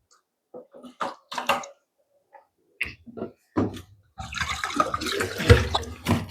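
Water is fetched and poured in a home kitchen, a few brief clinks and movements followed by a steady splashing pour that runs for about two seconds, fairly close.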